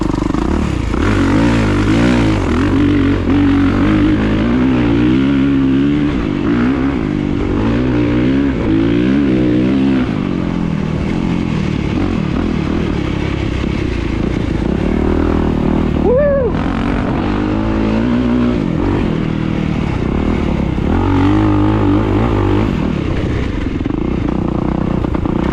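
A 2023 Kawasaki KX450SR dirt bike with a worn rear tire, its engine revving loudly and continuously while ridden, rising and falling in pitch through throttle bursts and shifts, close and aggressive throughout.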